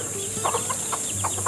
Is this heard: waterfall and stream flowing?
no